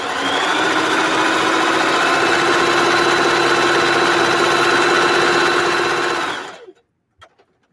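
A serger sews along the edge of ruffle and glitter socks, a loud, steady mechanical whir running continuously for several seconds before winding down, followed by a couple of faint clicks.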